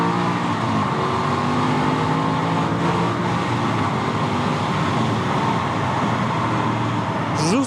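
An Aston Martin Vantage S V8 pulls hard from inside the cabin, its engine note climbing steadily through a long loud run, then a quick shift and fresh rise at the end, with no talk.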